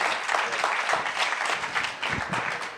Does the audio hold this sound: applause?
yes